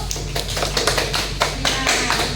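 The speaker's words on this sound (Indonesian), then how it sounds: "Tepuk tangan untuk kelompok 1." Classroom applause for a student group, a short burst of scattered hand claps from several people, fairly close and lively, lasting a couple of seconds.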